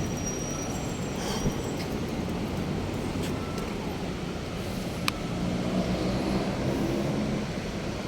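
A light rail (LRT) train rumbles steadily past at close range near the Pasig River Esplanade, wheels grinding on the rails with occasional high metallic squeals over continuous street noise.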